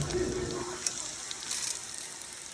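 Shrimp frying in a pot of oil, a steady bright sizzle close by with faint crackles, fairly constant throughout.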